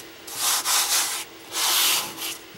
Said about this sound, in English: I apologize if the sound of sanding is like fingernails across a chalkboard to some people.